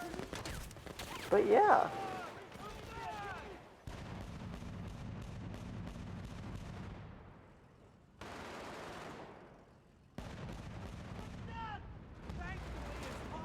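Light machine gun fire crackles in a Bad Company video game battle, bursts of rapid shots and booming explosions broken by short pauses, with someone talking over the action.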